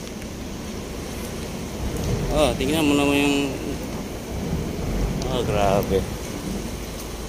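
Steady rain with occasional thunder rumbles at a deep, muddy excavation site where a CAT 323 excavator works, a continuous broadband wash under people talking nearby.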